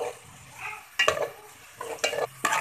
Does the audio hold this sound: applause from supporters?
no